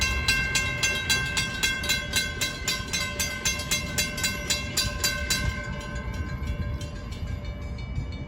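A Long Island Rail Road train at Mineola pulls out while its K5LLA horn sounds in a long series of quick repeated chordal blasts over the rumble of wheels, loud and nearby, fading slightly toward the end.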